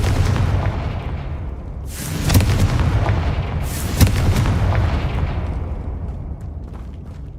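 Confringo fire-blast spell explosions in Hogwarts Legacy: two loud, sharp booming bursts a couple of seconds apart, each ringing out into a rumbling tail, over a continuous low background roar.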